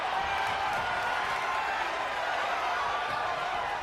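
Wrestling event crowd in an arena making a steady, distant roar of cheering and noise that stays constant throughout, with no distinct voices standing out.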